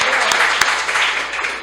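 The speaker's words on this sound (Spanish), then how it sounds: "Un aplauso fuerte a la maestra Grueso." Audience applause for a teacher at a talk on narrating African heritage to children, a dense, loud burst of clapping heard alone and fading slightly toward the end.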